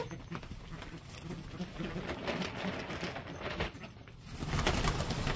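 A flock of white birds being fed bread outdoors, cooing and shuffling in a dense, steady mass of bird sound with pattering, close and continuous, with a swell of activity near the end.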